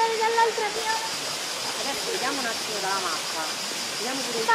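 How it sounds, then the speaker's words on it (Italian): The Monte Tosto waterfall on the Fosso del Nocino gives a continuous rushing roar of falling water, close and steady, with voices faintly audible over it. "la cascata del Norcino."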